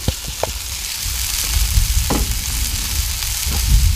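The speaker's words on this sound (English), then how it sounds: "now we got those potatoes going" Potatoes frying on a Blackstone griddle give a steady, loud sizzle, broken by a few brief scrapes and clicks of a spatula against the flat-top. No one speaks.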